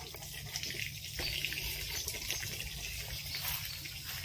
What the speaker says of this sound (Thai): วันนี้คุณลุงอาบน้ำให้น้องนินนี่นะคะ